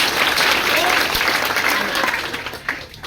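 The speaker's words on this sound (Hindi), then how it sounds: "ताली होनी चाहिए।" Schoolchildren at a private school applaud together after a story, a dense, loud wash of clapping that tapers slightly toward the end.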